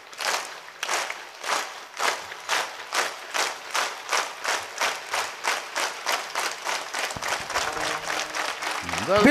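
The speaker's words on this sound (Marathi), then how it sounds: "एक टाळी" A crowd claps in steady unison at a devotional gathering, about two claps per second, loud and rhythmic, with a brief rising tone near the end.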